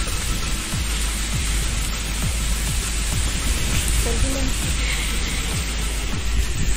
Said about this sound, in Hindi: ऐसे भी बारिश हो रही थी